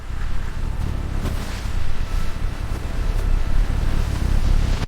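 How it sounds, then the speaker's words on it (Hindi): Strong wind storm sweeping through a forest in an animated scene, a steady loud low roar with surging gusts throughout and no voices. "अचानक तेज हवा चलने लगती है और पूरा जंगल एक खतरनाक तूफान में बदलने लगता है"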